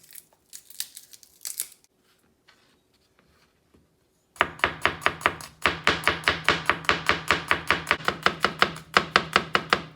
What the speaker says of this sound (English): now we're gonna mince up some garlic, maybe three cloves